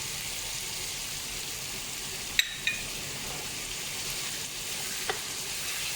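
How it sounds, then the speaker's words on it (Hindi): Whole coriander and cumin seeds sizzle in hot oil while cooking a spicy mutton stew, a soft continuous frying hiss with a couple of faint stirring clicks, low and close with no talking. "फिर हम डालेंगे साबुत धनिया और ज़ीरा"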